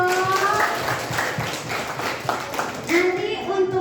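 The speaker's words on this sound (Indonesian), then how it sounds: "Tepuk tangan dong" Classroom clapping from students after a teacher announces cooking-competition winners, a steady patter of many hands mixed with children's voices and chatter throughout.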